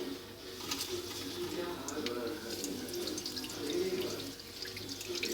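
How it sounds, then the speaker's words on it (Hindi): Poppy seeds are washed in a bowl of water, with swirling and sloshing sounds at close range, steady with small splashes, while birds coo faintly in the background. "इस तरह से पानी डाला है इसमें और धो लिया खसखस को"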